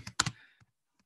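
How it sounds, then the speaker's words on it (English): A few quick keystrokes on a computer keyboard, a short cluster of close, crisp clicks followed by a couple of lighter taps, with no talking. "oh God, I hate typing"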